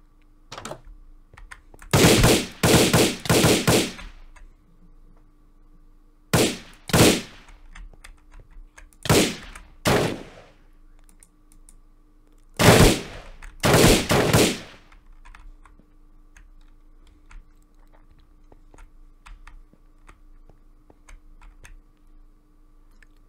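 Bursts of rapid gunfire in Minecraft, several loud clusters of quick shots separated by quiet pauses, with no talking.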